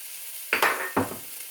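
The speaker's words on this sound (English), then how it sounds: "Give that a bit of a stir." Pilau rice stirred in a pot, two quick close scraping strokes of a utensil against the pan, short and distinct over a quiet hiss.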